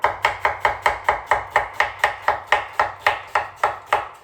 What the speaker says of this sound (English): So you're just gonna take the onion, you can cut it this way, so you have nice long pieces like that.